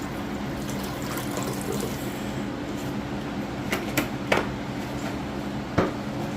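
Distilled water, about a quarter gallon, poured into a bucket during silver and gold recovery, a steady soft splashing pour with a few brief knocks near the end.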